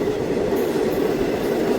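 A Ludhiana–Churu passenger local train runs steadily near Dhuri, a continuous close rumble of rolling wagons and rail noise with no break and no talk.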